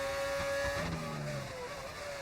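A modded Formula 1 car engine in a racing video game, with a steady high engine tone that shifts pitch and drops briefly as the car changes gear, heard alone and fairly quiet.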